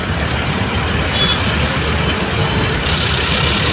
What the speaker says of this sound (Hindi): ये ट्रैक्टर ना मिट्टी ला के ना पीछे से, ये पानी का ना गड्ढा बना हुआ है बहुत ज़्यादा बड़ा, इसको फिल कर रहे हैं।